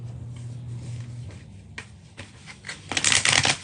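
Oracle cards are shuffled by hand, a run of soft riffling and flicking close by that ends in a louder burst of snapping cards.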